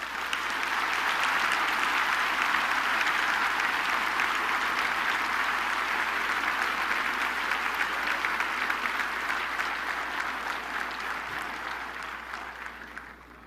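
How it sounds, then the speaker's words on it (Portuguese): A church congregation claps together in sustained, dense applause that holds steady for most of its length before gradually tapering off near the end, with a low steady hum underneath. "Você pode dar ao Senhor um forte aplauso"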